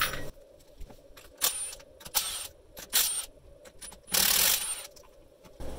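Ratchet loosening bolts on the bus bars of a lithium iron phosphate battery bank, a series of irregular metallic clicks, clinks and brief rattling bursts, close and fairly quiet, with no speech.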